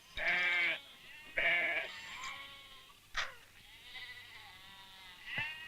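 Goats bleat in loud, wavering calls close by: two strong bleats in quick succession, then fainter ones and a final short cry, with light rustling between them.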